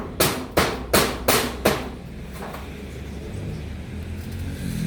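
Five sharp hammer blows land in a quick, slightly uneven rhythm during home repairs after storm damage, each one loud and close, then leave a low background hum with no talk.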